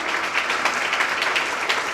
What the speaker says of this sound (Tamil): அரங்கம் நிறைய கைத்தட்டணும்.